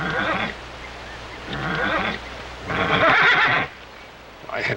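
A horse neighs and whinnies in three loud bursts spaced a second or so apart, with a fourth call starting at the end, over a low steady background hum.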